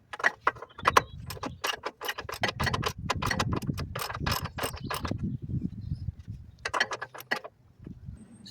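A press tool works a seized pinch bolt on the front suspension of a 2017 Tesla Model S, giving a run of close metallic clicks and ratcheting snaps over a rumbling mechanical background.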